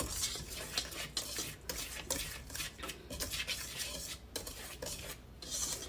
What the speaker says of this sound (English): you're going to whisk that around first. Get this all whisked together.